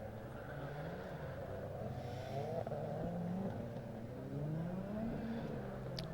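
Caterham race cars of the Graduates Championship (Sigma 150 / Sigmax class) rolling onto the grid at Donington Park, a steady layered engine drone with rising revs from several cars, continuous and moderately close.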